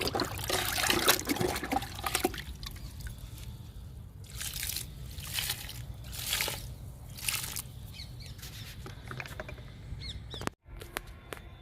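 Liquid plant fertilizer poured onto a jasmine plant grown from a cutting, a soft intermittent trickle and dribble in several bursts, close and quiet, with no talk.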